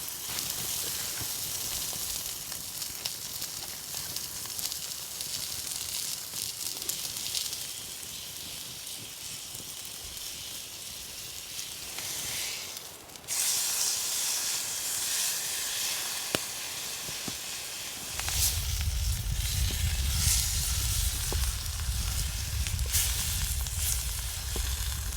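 Hot material from a driftwood survival build, pulled off the heat and left to cool outdoors, sizzles and hisses steadily for the whole stretch with no talking. A low rumble joins in near the end.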